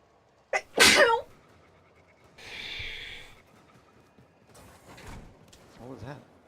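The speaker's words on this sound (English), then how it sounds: "I sneezed" A single loud, sharp human sneeze bursts out close by near the start, followed by quieter rustling, a brief hiss and faint murmuring voices.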